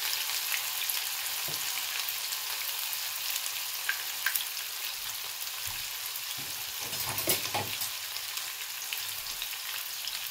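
Onions fry in a pan for a Nigerian meat pie filling, a continuous, moderately loud crackling sizzle with occasional faint clicks and scrapes. No voices are heard throughout.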